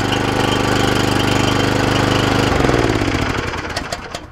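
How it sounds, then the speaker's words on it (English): A SISIS Dart golf course maintenance machine runs with its small engine started by pull cord. The engine makes a steady, loud, rapid putter close by, then slows and winds down toward the end. "To start the engine, the OPC control must be held in."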